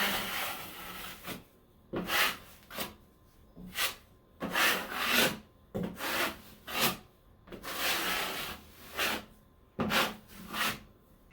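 Drywall knife spreading a first coat of joint compound over a drywall patch, a series of rhythmic scraping strokes, close and fairly loud, each rasping sweep separated by short pauses.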